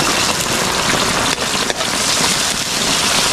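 Heavy rain pours steadily outdoors, a loud, dense and unbroken hiss of drops on surfaces that runs from start to finish with no one talking.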